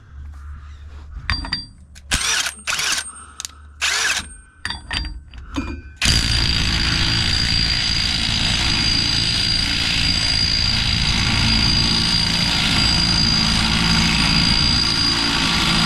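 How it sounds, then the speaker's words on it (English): Impact wrench working on the rear axle of a Holden VY ute: several short, loud bursts in a stop-start rhythm, then a sustained, steady high-pitched run close by. "So now it's rattle gun time."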